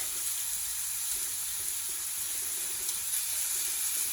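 Steady sizzling of steak searing in a hot pan, a continuous soft hiss with faint crackles, fairly quiet and unbroken.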